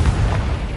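A fiery Confringo spell from the Hogwarts Legacy game bursts in one short, deep, booming blast that fills the whole moment.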